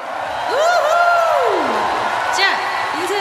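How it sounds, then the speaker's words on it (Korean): Concert audience at a 2019 Japan tour roaring and cheering, a dense sustained crowd wash with loud whoops and rising shouted cries riding on top throughout. "아낌없는 박수 부탁드릴게요"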